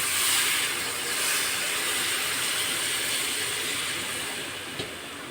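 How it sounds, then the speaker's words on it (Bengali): Water poured into a hot pan of village-grown banana sets off a loud, broad steaming hiss that holds steady and eases slightly near the end, with one small click. "এখন আমি এর ভিতরে মাপ মতন জল দিয়ে দেব।"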